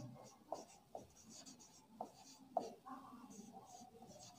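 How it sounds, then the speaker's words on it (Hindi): Chalk or marker writing Pascal's law on a classroom board, faint scattered taps and short scratchy strokes in an otherwise quiet room. "यहाँ पर हम लोग लिखते हैं पास्कल का नियम"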